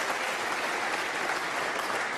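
Snooker crowd at the Masters applauding a thin blind-pocket shot by John Higgins against Anthony McGill, a dense, steady wash of clapping that fills the whole stretch at even loudness with no voices standing out.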